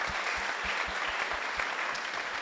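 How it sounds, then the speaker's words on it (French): Audience applause at an architecture conference, ARCHIPRIDE 2021 in France: steady dense clapping from a seated crowd, fairly quiet and even throughout, with no talk over it. "peut vous applaudir également"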